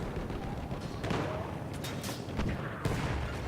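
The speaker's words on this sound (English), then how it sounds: "This is a sniper shotgun." Gunfire and explosions rattle through a Battlefield 1 battle, with several sharp bangs and booms, some close and some distant, including shotgun blasts, over constant rumbling combat noise.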